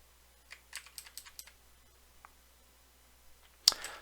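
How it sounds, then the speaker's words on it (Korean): Computer keyboard keys pressed in a quiet room during an exam-problem walkthrough, a short run of soft quick clicks, a lone tap, then one louder sharp key strike near the end, with no talk. "Alt 키를 누른 상태에서 왼쪽 방향 키를 이용을 해서 쭉 당기겠습니다."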